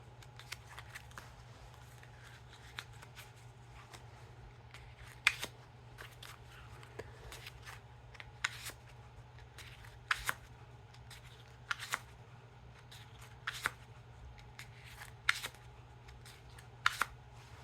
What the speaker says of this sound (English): Now time for that one-handed cut, or a Chevalier cut.